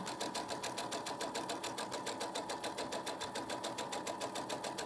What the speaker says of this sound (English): And you just sew.